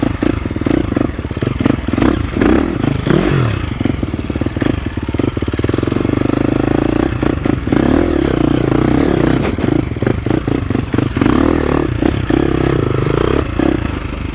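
A 2023 KTM 350 SX-F dirt bike rides a trail, its engine buzzing continuously with uneven throttle surges, punctuated by clattering and scraping from rocks and terrain beneath it.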